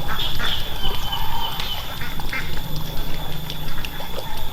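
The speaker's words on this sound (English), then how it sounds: "I think these are called Indian runner ducks." Indian runner ducks quack loudly and repeatedly nearby in a wet, rainy yard, overlapping calls in uneven bursts over a constant hiss of rain and water.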